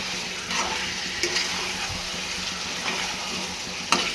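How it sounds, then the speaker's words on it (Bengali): Potatoes fry in a pan for a pangas fish curry (macher jhol) over lowered heat, giving a steady, close sizzle with occasional light stirring clicks and taps. "আলু দিয়ে আলুকে একটু আঁচ কমিয়ে দিয়ে ঢেকে ঢেকে কষাবো"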